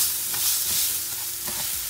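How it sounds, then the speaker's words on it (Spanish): Rice stirred in a frying pan with onion and garlic, a soft steady sizzle under scraping strokes of the spoon that recur in an uneven rhythm, close and alone. "Y vamos a revolver."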